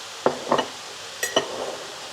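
Smoky and sweet paprika is stirred through chilli beef in a pan, heard as a few close scraping, clinking strokes in two short pairs over a soft background sizzle, with no talking.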